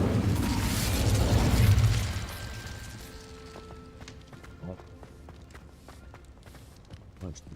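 An Incendio fire spell is cast in Hogwarts Legacy, giving a loud roaring whoosh of flame for about two seconds that fades into quieter clicks, thumps and footsteps.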